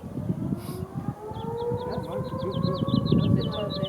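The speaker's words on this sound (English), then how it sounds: "That was also the siren they ran when they were launching the nuclear warhead." A noon civil defense siren wails in the distance under a steady rumble, with birds chirping faintly in quick repeated bursts.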